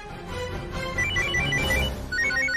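A telephone rings indoors in a Tamil TV drama, a repeating electronic ringtone with short melodic bursts over a low background hum, with no voices.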